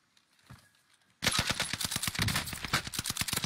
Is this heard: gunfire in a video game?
yes